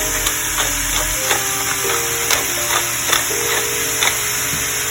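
Spices and crumbled bouillon being stirred into a butternut squash soup mixture in a pan, a soft continuous sizzle with gentle scraping spoon strokes at irregular intervals, close and steady with no talking.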